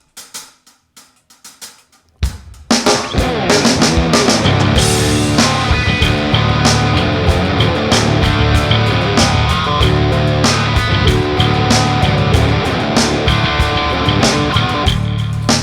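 Heavily distorted electric guitar riffs play loud and sustained after a few quiet opening plucks, with a thick, crunchy tone and rhythmic chugging.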